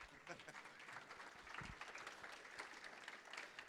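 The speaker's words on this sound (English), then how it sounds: "I appreciate that grudging applause." A morning conference crowd at devopsdays Minneapolis claps steadily, a soft, even wash of applause heard at a distance.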